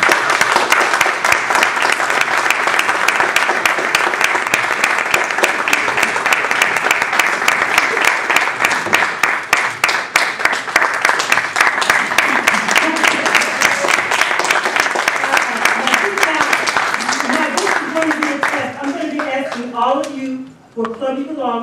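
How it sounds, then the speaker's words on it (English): A Toastmasters contest audience applauds in a hall, sustained dense clapping from many hands that runs strong for most of the stretch before dying away as a voice begins speaking over the last few seconds. "Keep those claps coming until they come up here."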